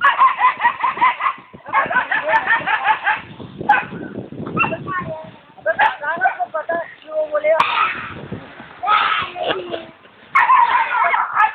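A pet dog yips, whimpers and gives short barks in bursts throughout, with people talking around it at close range.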